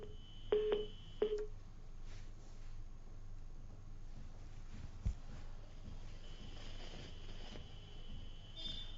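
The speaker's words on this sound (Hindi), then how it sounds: "फोन लाइन यहां पर डिस्कनेक्ट हो गई है" Telephone tones on a live TV news call line as it disconnects: a pair of short, sharp dial-tone-like beeps near the start, then a long steady high tone near the end, over faint background hiss, no talk.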